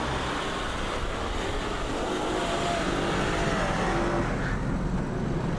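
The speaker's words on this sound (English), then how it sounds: "Turning off DSC and entering a corner too fast, or applying the throttle too sharply, can risk the vehicle sliding into a skid" A Land Rover with stability control switched off slides into a skid on a snowy off-road corner, its engine giving a steady, broad roar that holds close and even for several seconds with no talk.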